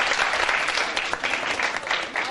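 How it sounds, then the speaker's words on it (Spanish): Audience applause fills a lecture hall after a talk on criminal and testimony psychology, with dense, steady clapping from many hands throughout, fairly close and without speech. "un aplauso para Pavel"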